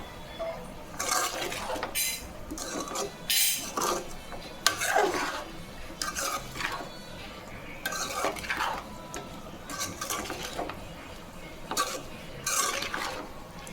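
Prawn curry with egg fried and stirred in a pan on medium-high heat, with repeated metallic scraping and clinking of a spoon against the pan in irregular bursts over a soft sizzle.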